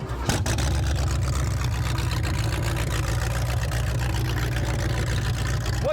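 Small block Chevy 350 V8 in a demolition derby car starting up, a brief crank then a loud, rumbling idle that stays steady and close for several seconds.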